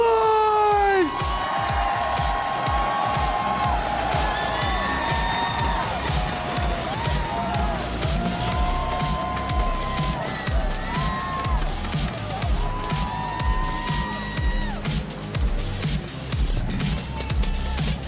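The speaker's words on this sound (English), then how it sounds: "Round of applause for Mohamed Light!" A large crowd at the Clash Royale League World Finals cheers and screams loudly, with whoops and high-pitched shouts rising and falling over a continuous roar.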